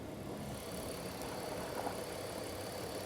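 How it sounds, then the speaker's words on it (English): A BMW station wagon's engine idles steadily, a close, even rumble with a slight rattle and no voices over it. "Engine's running. Let's check it out and see how it sounds."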